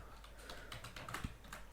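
Someone types on a computer keyboard, giving soft, rapid, close key taps in an uneven rhythm at low volume with no talking.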